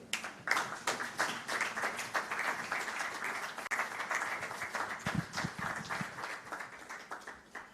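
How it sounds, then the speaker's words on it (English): Applause from an audience at an online human rights event follows a presidential address, with steady dense clapping running throughout at moderate level. "All lawyers online who were applauding you, President, I want to thank you as well."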